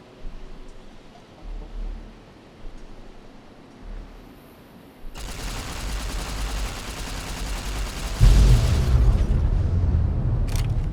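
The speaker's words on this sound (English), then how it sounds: "They're shooting up flares like, hey, we need help over here." Flares fired into the air in Fallout: New Vegas, heard as a few faint thumps and then a sustained loud crackling burst with deep booming rumble that swells near the end.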